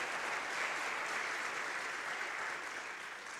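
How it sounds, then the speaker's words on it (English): Applause fills a church during a Christmas Eve candlelight service, a dense, steady crowd clapping that holds evenly throughout and fades slightly at the end. "So give them a round of applause."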